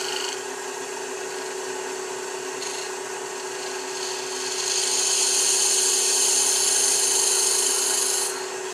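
A wooden piece has its center hollowed out with a steady, close grinding and rasping over a constant hum, growing louder and brighter about halfway through before stopping abruptly.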